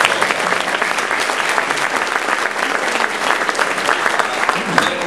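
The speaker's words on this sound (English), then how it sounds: "one round of applause to Fatih Mahmood and all of those who work s" A dinner audience at an annual dialogue and friendship banquet in Mississippi applauds, dense sustained clapping that stays loud and even throughout.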